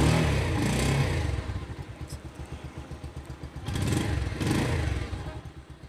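A Bajaj Pulsar 150 STD motorcycle engine starts on the self-starter and settles into a steady, close idle with a rapid pulsing rhythm, swelling louder twice in brief blips of throttle near the end.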